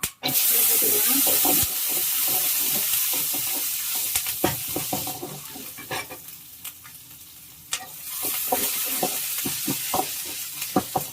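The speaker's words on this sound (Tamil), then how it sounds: "பூண்டு கொஞ்சம் வதக்கிக்கலாம்." Steady hissing sizzle of a handful of garlic frying in a pan for fish curry, with intermittent clinks and scrapes of stirring throughout; no voices.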